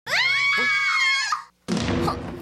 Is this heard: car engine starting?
no